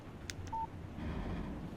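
A phone alert in Alan Wake Remastered sounds as a short electronic beep and a tone, quiet over a low background hum.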